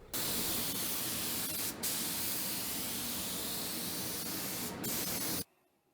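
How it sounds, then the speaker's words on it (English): Spray gun applying semi-gloss pre-catalyzed lacquer to a wooden table, a loud, steady hiss broken by two brief pauses, then cutting off sharply into near silence. "we'll spray it again with a nice semi-gloss pre-cat lacquer."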